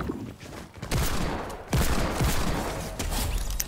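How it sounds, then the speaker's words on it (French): Dense overlapping gunshots from two players firing at once in a video game, a loud continuous fusillade with sharp bursts standing out and no talk. "on tire à deux"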